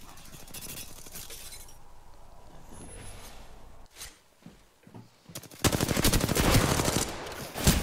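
Bursts of automatic gunfire crackle in an Apex Legends match, scattered shots early on, a quieter lull, then a loud, sustained rapid volley near the end, with no speech heard.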